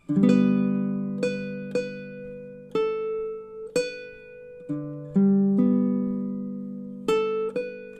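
A baritone ukulele plays measures 3 and 4 of a song as a steady run of about a dozen plucked notes and chords. Each one rings out close and fades before the next, and no voices are heard.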